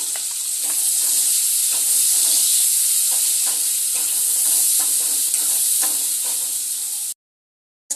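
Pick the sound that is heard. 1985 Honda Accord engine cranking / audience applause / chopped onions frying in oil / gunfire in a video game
chopped onions frying in oil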